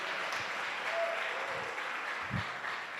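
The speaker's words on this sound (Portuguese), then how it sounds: "então uma salva de palmas" Audience applause for Késia as she is called up with her family, a steady wash of clapping filling the room, fairly close and continuous for the whole stretch.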